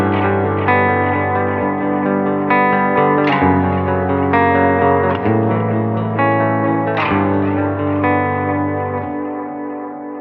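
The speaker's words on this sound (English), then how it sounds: "You still hear the delay, you still feel it and everything like that." Guitar chords ring through a UAFX Galaxy '74 tape echo and reverb pedal set with its high end rolled off, so soft darkened repeats trail quietly beneath each loud strummed chord.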